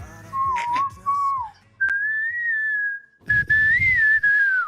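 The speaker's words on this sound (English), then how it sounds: "that whistle. Who was whistling?" A singer whistles the catchy hook of a pop song in a few clear melodic phrases, close and steady, with only faint background noise between them.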